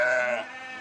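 A single sheep bleats loudly and close by, one sustained wavering call from a flock of 500 ewes on a farm in the Diois before their summer move to alpine pasture.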